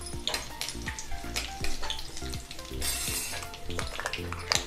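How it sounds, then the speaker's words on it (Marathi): Mustard seeds and curry leaves in hot oil for misal, giving a close, bright sizzle with scattered crackles and a few utensil clinks, steady and untalked. "तेल आपलं तापलेलं आहे. त्यामध्ये टाकणार आहे 1/2 चमचा मोहरी."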